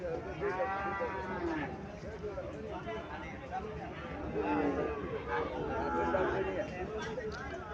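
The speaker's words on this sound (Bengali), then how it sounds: "এখানে আরো একটা গাভি দেখা যাইতেছে, মোটামুটি আমার চয়েস হয়েছে গাভিটা।" A Haryana Jersey dairy cow on a farm lot moos in long, harmonic calls at moderate distance, with people chattering and background voices running throughout.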